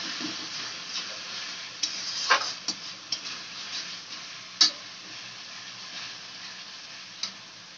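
Salt, turmeric, chilli powder and packet fish masala for a pomfret curry being mixed in a pan: a low steady sizzle with sporadic sharp clinks and scrapes of a spoon on metal, close and fairly quiet, with no talking.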